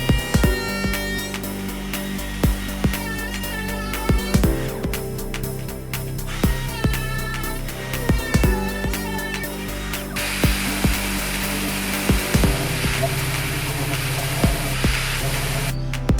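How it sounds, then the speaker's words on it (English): A cordless Makita trim router with an 18mm round-over bit runs along the edges of a wooden cajon box drum, giving a loud, high-pitched motor whine, with sharp clicks and pauses between passes and no voices. "I'm using my cordless Makita trim router with an 18mm round over bit."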